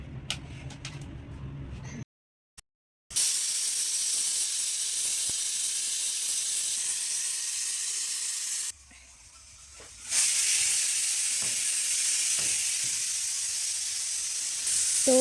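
Pressure cooker on a village stove releasing steam in a loud, continuous hiss that cuts out briefly and returns in a second long burst.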